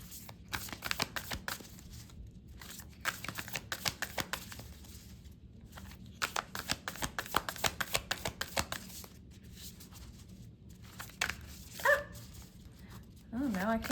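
A deck of tarot cards shuffled in repeated close riffling bursts with brief pauses, followed near the end by a few louder irregular sounds.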